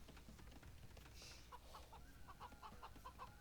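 Chickens cluck in short repeated bursts over a quiet background, fairly faint and slightly distant.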